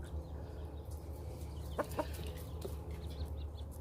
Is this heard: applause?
no